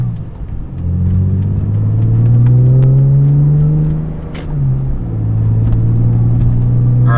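BMW E46 M3 with an SMG gearbox pulling hard in third gear, a loud, close, steady engine drone climbing in pitch, briefly dipping as revs settle, then holding strong again.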